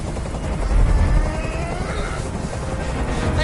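Helicopter in the video game Detroit: Become Human, a steady low rotor drone that fills the whole stretch at constant loudness, with no talk over it.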